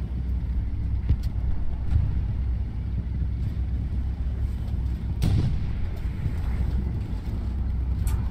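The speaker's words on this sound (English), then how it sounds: "It's a friendly tank in front of us." A friendly tank rumbles nearby in the Hell Let Loose battlefield game, a steady low engine drone with occasional dull thuds of distant fire.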